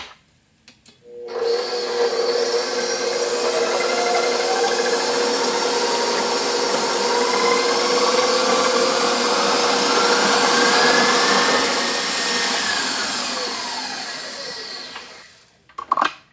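An electric hand mixer beats butter, brown sugar and vanilla into a batter, a loud, steady whirring drone that starts abruptly, holds for about fourteen seconds, then winds down and stops.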